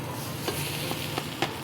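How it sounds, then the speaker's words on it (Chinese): Leavened flatbread fries in a pan, a soft continuous sizzle with a few faint clicks and taps close by, no talking. "再給它蓋上蓋兒，把另外一面也給它煎黃"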